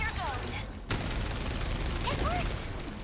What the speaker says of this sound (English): Light mounted machine gun.